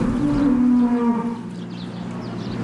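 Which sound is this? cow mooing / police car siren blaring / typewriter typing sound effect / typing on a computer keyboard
cow mooing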